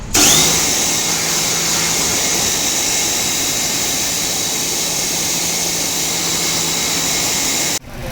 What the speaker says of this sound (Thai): อันนี้ก็เครื่องก็กำลังการดูดน้ำมันคอมเพรสเซอร์นะครับ